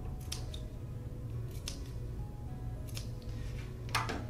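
Scissor tips trimming and clipping the tight curves of a fabric sewing collar, a few crisp, close snips spread out in an otherwise quiet room.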